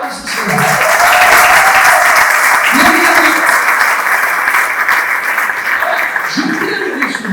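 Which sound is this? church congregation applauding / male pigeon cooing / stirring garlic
church congregation applauding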